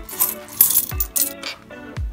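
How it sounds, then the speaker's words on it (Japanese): Small coins dropping and rattling onto a surface, a few quick metallic clinks and a settling rattle, close and clear with no talk. "まあ小銭"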